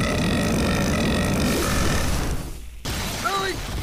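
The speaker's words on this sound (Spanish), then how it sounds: "Le doy a ese eructo un 4." A loud, gurgling burp rolls out for about two seconds, followed by a brief pause and then a voice speaking.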